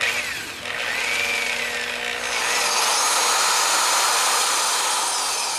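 A power drill re-drilling a stripped cylinder bolt hole on a Harley Davidson engine with a 484 bit, a loud continuous grinding whir with a brief dip near the start, then steady close cutting noise throughout.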